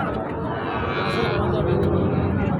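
A cow at a busy cattle market, a Sahiwal breed animal, gives a low mooing call close by amid steady crowd noise and background voices.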